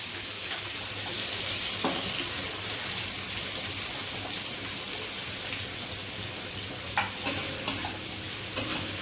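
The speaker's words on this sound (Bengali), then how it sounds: "এবার ওই তেলে পেঁয়াজগুলো ভাজা হচ্ছে" Sliced onions fry in oil left over from frying prawns for a Bengali curry, a steady sizzle with soft stirring, broken near the end by several sharp clinks of a utensil.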